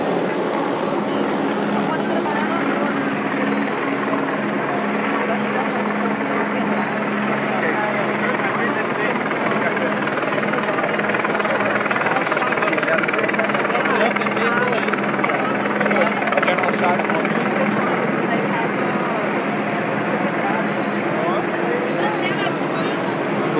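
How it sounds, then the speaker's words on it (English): A police helicopter drones steadily overhead during World Cup protests in Rio de Janeiro, a continuous rumbling whir mixed with crowd noise and talk. "Police helicopter is still high in the sky."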